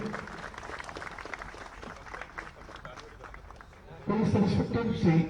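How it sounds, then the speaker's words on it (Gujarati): An indoor audience at a Gujarat ATS police ceremony breaks into loud clapping near the end, after a stretch of quieter scattered claps and crowd noise, welcoming police officers. "જોરદાર તાળીઓથી પ્રોત્સાહન આપી આપણે"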